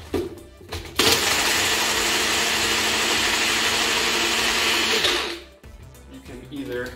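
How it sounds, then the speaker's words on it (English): A loud, steady whir of a small personal blender mixing a Hand Grenade cocktail runs for about four seconds, starting abruptly and cutting off, with brief background noise before and after. "You'll need to blend it for about 10 seconds, 15 seconds or so. It'll be really loud."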